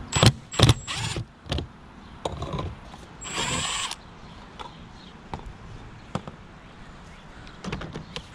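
A power drill backs screws out of an old, outdated motion light box with incandescent bulbs. It comes in short, separate bursts of whirring, with one longer whine in the middle and quiet handling noises between them.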